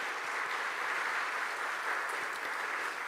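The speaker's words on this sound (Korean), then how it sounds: "다시 한번 우리 총회장 후보님 박수해" Steady audience applause for a general-assembly presidential candidate at a church denomination's policy debate, a continuous dense wash of many hands clapping at moderate volume with no speech over it.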